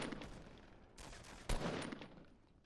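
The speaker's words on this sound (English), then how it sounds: "that's Dan shooting from the watchtower" Gunfire from a watchtower in the Fortnite battle royale, heard as quiet, scattered shots with one sharper, louder burst about midway, set against low game noise.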